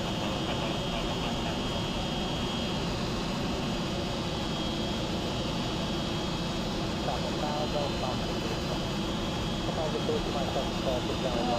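Avro Vulcan XL426 jet bomber's engines roar during a taxi run, a loud, steady broadband rumble and whine that holds without a break throughout.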